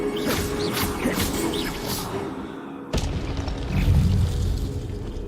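Incendio fire spell cast in the Hogwarts Legacy video game: dense booming, crackling bursts with mechanical clatter, a sharp hit near the middle and a heavier low rumble after.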